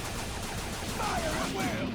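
Gunfire from the Mighty No. 9 video game crackles steadily for about two seconds as a dense, continuous fusillade, with faint voice-like tones drifting over it midway.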